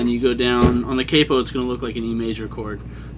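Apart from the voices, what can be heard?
No everyday noises stand out.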